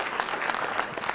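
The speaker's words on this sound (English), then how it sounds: "A round of applause for Steve Gray." Steady applause from a wrestling show crowd fills the hall, dense and continuous with a few claps standing out, no talk over it.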